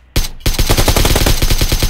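Gunfire in the battle royale game PUBG Lite: a brief silence, then a single loud shot followed by a dense, rapid automatic burst that continues without pause, close and very loud with no talk.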